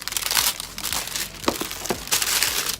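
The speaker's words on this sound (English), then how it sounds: "Start taking the plastic off this guy." Plastic wrapping is pulled off a solar charger case, a close, continuous crinkling and crackling with several sharper rustling bursts, loud and alone with no talk.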